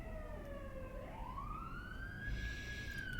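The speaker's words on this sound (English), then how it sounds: "Cue siren." A siren wails steadily, its pitch sweeping down and then climbing into a long rising tone that grows slightly louder over a constant low background rumble.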